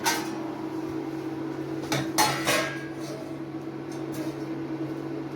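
A lid clanks onto a metal pot of rice, giving a few brief close knocks over a low steady hum in a quiet kitchen.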